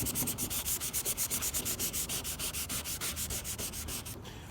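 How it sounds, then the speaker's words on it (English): Old clear coat is sanded off a carbon fiber car hood by hand, with rhythmic back-and-forth rasping strokes about five per second, close and steady, no voices. "So I'm gonna sand this"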